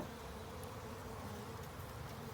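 A mass of honeybees being tapped from a lid into a hive box during a spring package installation, giving a steady, dense, close buzzing drone that holds level throughout with no talking.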